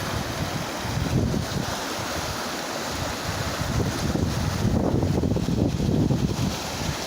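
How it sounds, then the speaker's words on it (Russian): A turbulent spring river rushes under a bridge, a loud, continuous roar of churning water mixed with wind buffeting the microphone, with no talk. "Течение бурное какое."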